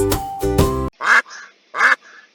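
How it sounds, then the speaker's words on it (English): Cartoon-style duck quacks by a muddy pond in an animal-sound song for children: two loud, separate quacks, each with a short trailing tail, following a few bright sustained musical tones. "Who says quack? Is it the pig or the duck?"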